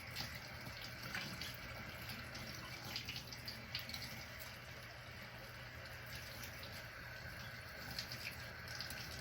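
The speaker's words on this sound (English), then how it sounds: "I like it running on the water, that way it cleans the little guts and veins at the same time." Tap water runs steadily and fairly quietly over shrimp being cleaned at a sink, a continuous close splashing hiss with small irregular spatters throughout and no one speaking.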